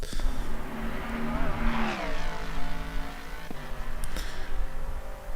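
A Jaguar race car in the Assetto Corsa Competizione racing game, driven on the Nordschleife, with a loud, steady engine drone that rises and falls through revs and gear changes, persistent throughout.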